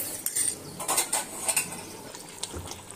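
Yogurt (curd) whisked in a bowl, with irregular metallic clinks and scrapes of a utensil against the bowl's sides, close and moderately loud, with no talk.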